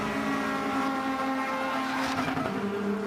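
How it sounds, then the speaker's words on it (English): Touring cars racing at Donington Park in a TCR UK Civic Cup race, engines droning steadily and loud with harmonic whine, a car blasting past near the end over the Craner curves toward the old hairpin. "Lots of screeching tyres as they race down the Craner curves into the old hairpin halfway through the race now"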